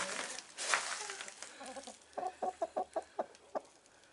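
Chickens cluck near nesting boxes on a farm, a quick series of about eight short, evenly spaced clucks up close following a louder squawk.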